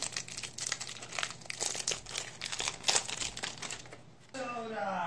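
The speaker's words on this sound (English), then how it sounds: "Let's get these out of the plastic." Plastic wrapping is crinkled and peeled off a double pack of playing cards, a steady run of close, loud crackling and tearing for several seconds before it stops and a faint tone briefly rings.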